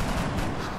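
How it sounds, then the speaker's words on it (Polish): A gunshot fires in the turn-based strategy game XCOM: Enemy Unknown, a brief, heavy, booming blast that fills the short moment with dense rumbling noise. "I strzelimy do tego."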